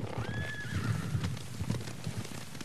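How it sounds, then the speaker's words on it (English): A horse gives a clear, high neigh near the start, followed by soft hoof clops over a low rumble, in the video game Ghost of Tsushima. "Horses, they're coming for us."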